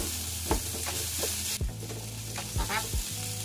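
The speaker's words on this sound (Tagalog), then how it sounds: "Lutuin lang na natin yung cashew nuts ng konti para lumabas yung aroma ng cashew nuts." Cashew nuts sautéing in a pan alongside carrots, with a steady sizzle broken by several sharp scraping stirs of a utensil against the pan.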